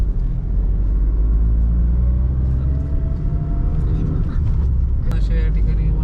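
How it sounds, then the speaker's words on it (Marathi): A car's engine laboring up a continuous steep rural slope, a loud low rumbling drone that stays heavy throughout, with faint background sounds over it. "गाडी चढायला तयार नाही."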